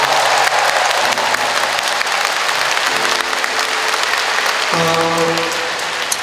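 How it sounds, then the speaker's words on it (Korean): Steady, dense audience applause fills a live Korean talk-and-music show, with faint sustained musical tones drifting underneath the continuous clapping throughout. "우리 그분께 큰 박수 한번 보내드리도록 할게요"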